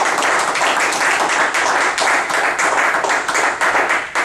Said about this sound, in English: Give Scott a big round of applause.